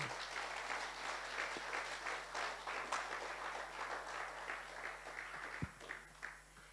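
A church congregation applauds steadily during a French-language service, a dense sustained wash of clapping heard close and fairly loud, with a constant low hum underneath and a few faint voices mixed in.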